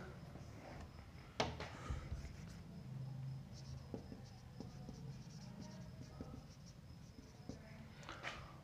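Faint pen-on-surface writing strokes during a physics lesson on powers-of-ten prefixes, soft intermittent scratches and taps with a few sharper knocks over a quiet room.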